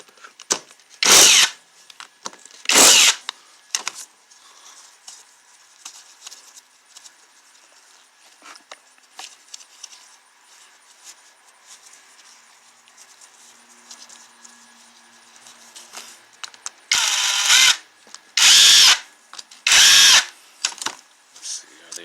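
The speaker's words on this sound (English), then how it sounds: "I'm going to take my impact gun." Impact gun driving bolts on a Honda engine, several short loud buzzing bursts, two early and a cluster of four near the end, with quiet workshop handling noise in between.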